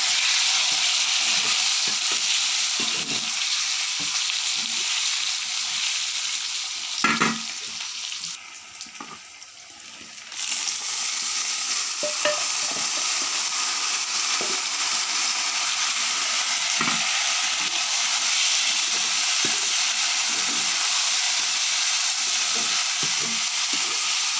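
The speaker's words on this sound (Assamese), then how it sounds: "আলু ফ্ৰাই কৰি ল'লোঁ।" Potatoes fry in a pan on a wood fire, a steady close sizzle running throughout with occasional stirring knocks and a brief quieter break partway through.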